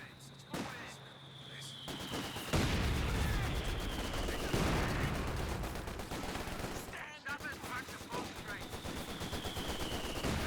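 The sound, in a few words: gunfire and mortar hits in video game Company of Heroes 2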